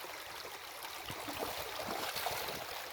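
A Utah river stream rushes over rocks in a steady, close, continuous wash of water with no breaks.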